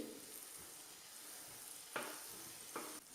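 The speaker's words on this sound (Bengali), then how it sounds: "জালটাকে কমিয়ে রাখছি, একটু নাড়িয়ে নাড়িয়ে দিচ্ছি।" Pata pitha leaf cakes fry in oil in a pan over medium-low heat, giving a soft, steady sizzle broken by a few sharper scraping stirs.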